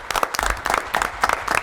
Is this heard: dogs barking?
no